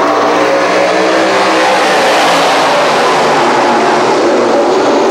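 Modified race cars at Can-Am Speedway roar as the pack accelerates on a green-flag restart. The engine noise is loud, dense and sustained, with overlapping revs sweeping past and no voices.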